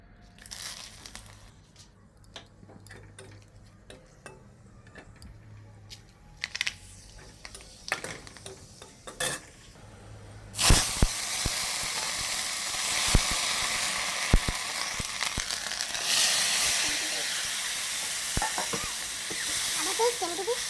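Vegetables sizzle and get stirred in a hot pan during home cooking, starting with scattered scraping and clinks, then a loud, steady sizzle and hiss as more ingredients hit the oil, with intermittent stirring clatter close by.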